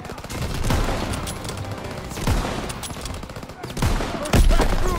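Gunfire in Call of Duty WW2 on a World War II battlefield, loud repeated heavy shots and bursts with booming impacts, mixed with voices shouting.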